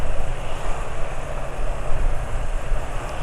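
A steady, loud engine drone from a motorcycle running on 20W50 oil at midday runs throughout with no pauses, a continuous low mechanical hum close to the microphone.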